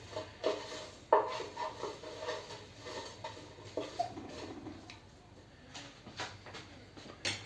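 Fries being stirred in a Ninja Speedi pot, with scattered scraping and knocking of a utensil against the pot, a few sharper clacks among softer rubbing, fairly quiet and close.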